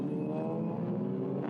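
TCR Europe 2018 touring race cars, including Audis, Cupras, Hondas and Hyundais, roar steadily at high revs, a loud sustained engine drone with a rich harmonic whine and no talking.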